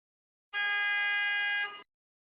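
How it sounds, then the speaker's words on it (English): A single loud car horn honk, one sustained steady blast a little over a second long that cuts off sharply, with nothing else around it. "there was a loud honk just now"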